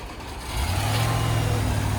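A 1989 Range Rover Classic SWB cranks briefly, then its engine catches and settles into a steady, loud idle close by, with no talking over it.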